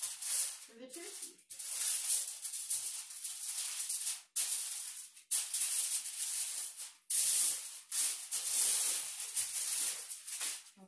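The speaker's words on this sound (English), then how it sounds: "I like to spray the foil with pan because I don't want the turkey to stick" Cooking spray hisses onto a wide sheet of aluminum foil laid out for a Thanksgiving turkey, in several long bursts of breathy spray with brief pauses between them, close and fairly loud.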